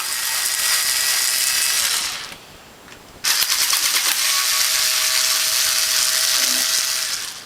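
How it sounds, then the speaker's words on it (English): Power screwdriver or drill whirring as screws come out of the sheet metal panel on a Norwalk juicer, a steady buzzing run, a short pause, then a second longer spin, close and fairly loud. "The first step is going to be to remove the front lower left screw, and then the rest of the screws around the sheet metal."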